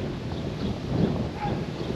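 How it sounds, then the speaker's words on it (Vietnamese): Strong wind blows outdoors with a steady, rumbling buffet against the microphone, a continuous low roar with slight gusts and no clear voices. "Quá wow, trời gió luôn."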